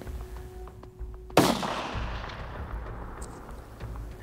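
Rifle shot fired at a mule deer buck standing broadside just over 200 yards away on a Colorado hunt: one loud, sharp crack followed by a long, rolling outdoor echo that fades over several seconds.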